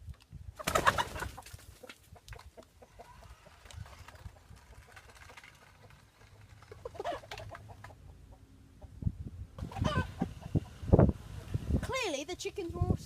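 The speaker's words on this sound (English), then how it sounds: "Clearly the chickens were all startled by the presence of the little grey car that ran around and scared them." Chickens startled by a small grey metal toy car running among them give bursts of clucking and squawking, loudest near the start and again in the final seconds, with quieter scattered calls between.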